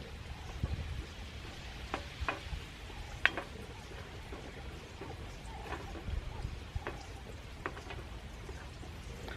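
Garlic and chicken livers sizzle softly in a pan at a campsite, with scattered clinks and scrapes of a utensil stirring against the metal over a low background rumble.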